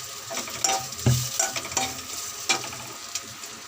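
Food fries in a hot pan, a close, continuous sizzle broken by several sharp scrapes and clinks as it is stirred, with no talking.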